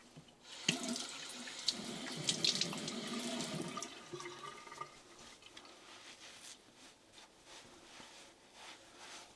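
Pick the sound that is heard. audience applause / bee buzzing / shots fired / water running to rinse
water running to rinse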